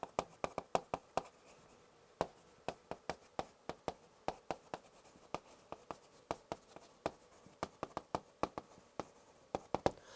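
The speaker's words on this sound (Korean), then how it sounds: "말을 이어서 쓸까요?" Chalk or pen writing on a board during a complex analysis lecture on the Cauchy-Riemann equations, a rapid series of sharp taps and strokes in quick bursts, close and clear with no talking.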